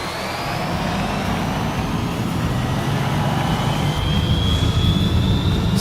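A 1972 Land Rover truck in Forza Horizon 5 drones steadily at speed, its engine a loud, constant rumble topped by a slowly rising, airplane-like whine.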